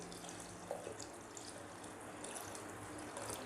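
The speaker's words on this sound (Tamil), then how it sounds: "நான் இதில் வந்து தண்ணி விட்டுக்க போகிறேன்." Water poured into a cooking pot of carrot and beans for a gram-flour gothsu side dish, a steady close splashing stream running throughout at low level.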